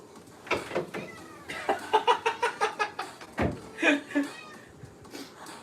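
A pet cat meows repeatedly near a door indoors, a quick run of short, evenly spaced mews followed by a couple of longer, louder cries, with faint speech in between.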